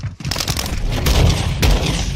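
A short burst of rapid gunshots in a shooter video game, loud and close, with a few cracking shots over a dense rumble and no talking.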